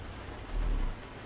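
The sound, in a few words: rain in video game American Truck Simulator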